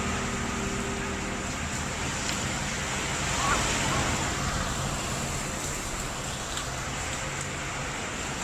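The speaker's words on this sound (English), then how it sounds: "the waves are big now" Big ocean waves during Tropical Storm Mirinae in southwest China roar as a loud, continuous broadband surge with wind noise, swelling slightly midway, while faint voices sit underneath.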